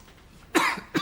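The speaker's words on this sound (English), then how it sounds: "Oh, stop bloody coughing." A man gives two short, sharp coughs, close and fairly loud, separated by a brief pause.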